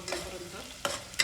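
A spoon stirs masala spice paste frying in a pan for traditional chicken rassa curry, giving a low steady sizzle broken by two or three sharp, close scraping strokes.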